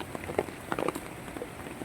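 Steady rain falls during a typhoon in Metro Manila, a dense even patter with a few sharper drops on a surface, heard alone without voices.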